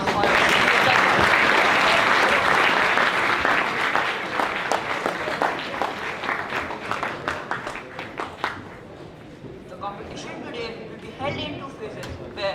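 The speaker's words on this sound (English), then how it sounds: "Please give a big round of applause for our judges." An audience at a school English elocution contest at St Joseph's College, Nainital applauds the judges, dense clapping that thins into scattered claps and murmuring chatter.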